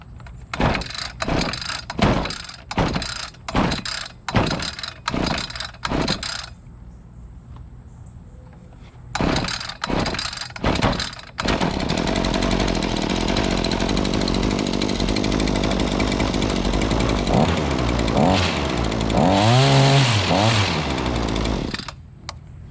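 A small gas engine fails to catch on a string of quick pull-start attempts, then after a pause takes a few more pulls and fires up, running loudly and steadily with throttle revs near the end.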